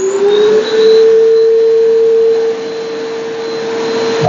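A Black and Decker VM1680 bagless vacuum cleaner running steadily, a loud continuous whine with a strong motor tone that dips slightly in pitch and level partway through, heard close up with no talking.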